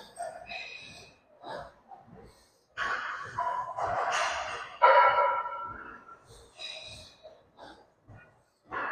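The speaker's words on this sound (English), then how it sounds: "This video is probably just gonna be a whole bunch of me heavy breathing." Heavy breathing from a person during weightlifting, close and loud, coming in repeated ragged bursts of gasps and exhales with short pauses between them.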